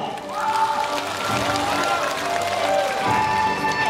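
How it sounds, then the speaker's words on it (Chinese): Audience applause and crowd noise fill an outdoor folk song-and-dance show in Zhangjiajie, western Hunan, ahead of a fire stunt, a steady loud wash of clapping mixed with cheering and voices throughout. "用掌声来刺激他。"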